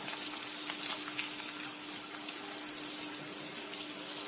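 Onions and chillies frying in oil, a continuous fine hissing sizzle with faint scattered crackles and a steady low hum underneath, close and moderately quiet.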